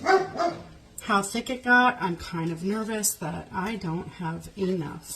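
A dog named Max barks repeatedly in a backyard, loud yips and barks in a steady run behind someone talking while she spreads apple pie filling in a kitchen.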